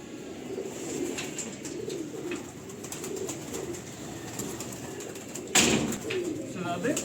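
Pigeons cooing in soft, repeated low calls amid steady background noise, with a brief louder rustle or flutter near the end.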